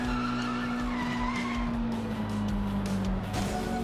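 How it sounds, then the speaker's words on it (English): Car tires screech during a street race in Sleeping Dogs: a sustained, loud tire squeal with engine drone underneath, running continuously without pause. "once it slows down, it just screeches to a goddamn halt"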